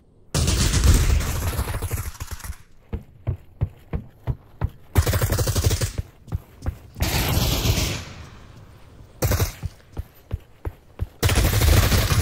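Bursts of automatic gunfire alternate with rapid single shots, loud and close, in a sequence of sustained volleys broken by quick sharp reports.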